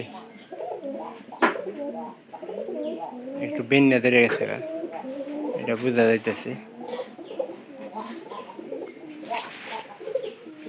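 Domestic pigeons coo near their nest box, several throaty rolling coos in bursts, close and clear, with someone talking intermittently between and over them.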